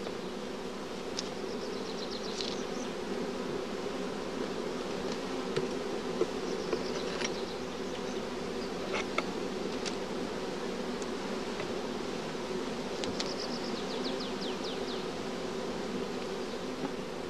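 Steady insect buzzing from many honeybees around a hive, a continuous droning hum with occasional closer fly-bys rising briefly above the swarm.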